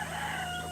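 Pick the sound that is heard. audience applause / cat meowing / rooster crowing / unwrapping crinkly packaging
rooster crowing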